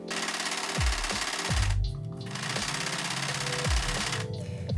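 A sewing machine runs in bursts while stitching the back panel of a vintage-style waistcoat, with a steady mechanical whir, brief pauses between seams and thumps as the fabric is handled close by.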